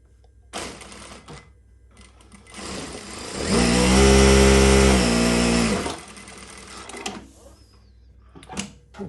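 Prosew PS-1985 industrial sewing machine running a short burst of stitching, rising to a loud steady mechanical whir for about two seconds, then stopping, with lighter handling clicks before and after.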